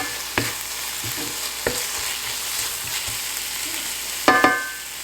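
Spices for Tibetan-style lamb thukpa soup fry in a pan with a steady, moderate sizzle, broken by a few sharp utensil taps and a louder double clatter near the end.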